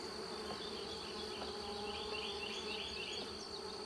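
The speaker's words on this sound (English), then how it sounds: "The bees are working every frame in this super." Honey bees buzz steadily across the frames of a partially drawn hive super in a nuc yard, a dense, continuous close hum with small insects darting near the microphone and no talking.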